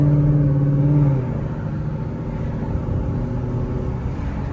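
A 2018 Mustang GT Premium coupe cruises at gentle speed, its exhaust a low steady drone that drops from a stronger tone to a calm, even rumble after the first second, with no voices.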